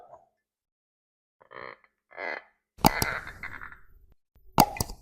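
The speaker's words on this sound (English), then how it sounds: "Tight cork, give it that." Tight cork pulled from a bottle of Knobel Tennessee Whiskey Small Batch: a few soft squeaky twisting sounds, then a sharp hollow pop with a clattering knock, and another brief sharp clack near the end.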